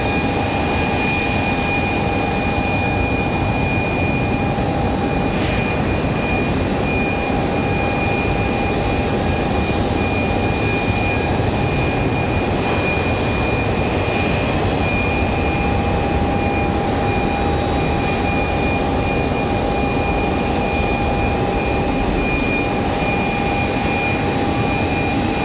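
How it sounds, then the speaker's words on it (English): An Airbus A320 airliner at Raleigh Durham International Airport, a loud continuous engine roar and whine holding steady for the whole span with a constant high tone on top, heard outdoors from the spotting area. "This A320 looks like it's going to come back here."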